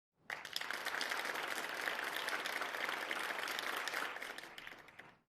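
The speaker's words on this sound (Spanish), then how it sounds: "Saben aplaudir de verdad" Gilead school students applaud in a large assembly hall, a dense, steady roar of many hands sustained for about five seconds before cutting off.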